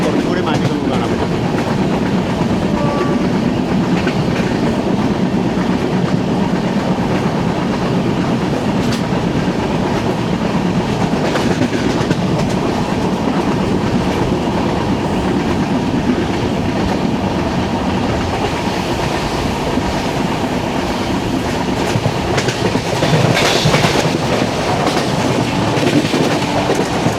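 The 12224 Duronto Express runs along the Konkan Railway, its steady loud rolling rumble and clickety-clack of coaches continuous from inside an AC 3-tier carriage.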